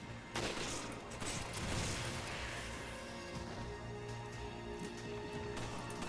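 Continuous gunfire from shooting enemies in the video game Resident Evil 5, dense and steady under a layered game soundtrack, with loud impacts and crashes near the start.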